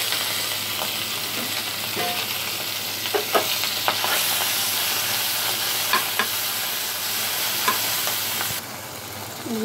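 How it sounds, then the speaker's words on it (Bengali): Rohu fish belly pieces fry in oil in a frying pan, giving a steady, close hiss of sizzling broken by occasional light clicks of stirring. "এখন এগুলো ফ্রাই প্যানে দিয়ে দেব"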